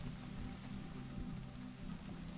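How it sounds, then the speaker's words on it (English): Steady, soft rainfall pattering on a surface, an even hiss with no voices and no breaks. "by the sound of it, it had been raining for hours"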